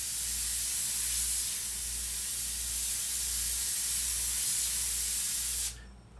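Airbrush spraying paint: a steady, close, airy hiss of compressed air that holds almost unbroken for nearly six seconds before cutting off abruptly.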